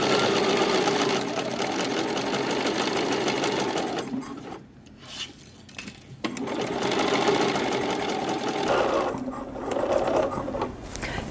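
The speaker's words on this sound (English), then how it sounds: "we're going to sew this whole seam real quick at the sewing machine" A sewing machine runs a crotch seam on a McCall's 8069 garment, its steady close mechanical whir continuing with two brief pauses midway before resuming at full speed.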